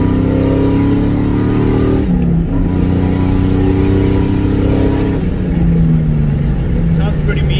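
A Mustang's engine revs in third gear while driving with the windows open. The loud, close, continuous roar rises and falls in pitch, with a brief dip partway through as the engine note shifts.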